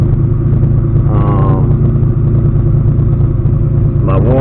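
Engine running just after its first start while being tuned, a loud, steady close-up idle drone with a brief slight rise in pitch near the start and end.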